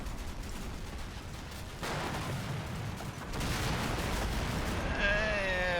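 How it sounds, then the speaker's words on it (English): Rapid 30mm cannon fire from the Combat Mission: Black Sea wargame, heard as a dense, continuous rumble of bursts at moderate distance that swells louder in the second half, with a brief whistling tone near the end. "What's that 30mm fire?"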